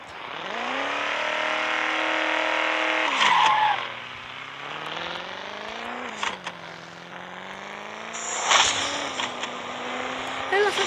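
Racing cars in a video game race, engines revving in rising and falling sweeps, broken by loud tire skids and squeals at several points.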